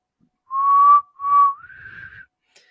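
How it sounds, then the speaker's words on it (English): A person whistling a short three-note attempt: two steady held tones, then a slightly higher sliding note that trails off, clear and close in a quiet room. "Oh my god, I can't whistle."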